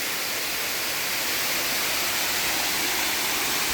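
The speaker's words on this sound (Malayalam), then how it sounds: "രണ്ടാമത്തെ തട്ട് വെള്ളച്ചാട്ടം ഇതാണ് കേട്ടോ" A waterfall on a hillside property roars as a steady, dense, unbroken rush of falling water, close and loud throughout with no voices.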